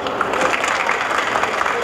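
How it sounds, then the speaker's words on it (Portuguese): Applause from an audience at a panel on housing policy in Pará, a short, dense burst of steady clapping heard close with faint voices mixed in. "Uma salva de palmas."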